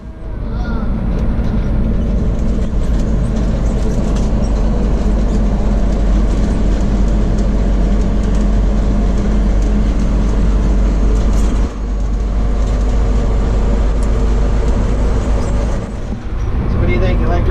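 Fire truck interior on the road: a loud, steady low rumble of engine and road noise fills the cab throughout, with a brief dip partway through.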